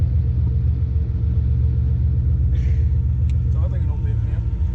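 A car engine idles after an ECU repair with a steady low rumbling drone close by, and a few faint clicks and small noises sound over it.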